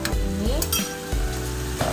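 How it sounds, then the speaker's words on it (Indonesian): Chili paste sizzles in oil in a pan as a spoon stirs and scrapes it, with faint clinks against the pan and steady frying hiss throughout, no talk. "aduk lagi"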